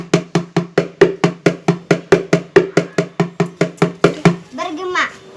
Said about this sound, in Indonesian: ember berbunyi